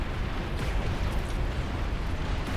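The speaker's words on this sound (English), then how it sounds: "Oh, the self-destruct at the end." A commander self-destructs in a huge nuclear blast in the real-time strategy game Beyond All Reason, a dense, sustained roaring rumble of explosions that fills the whole stretch loudly with no voices over it.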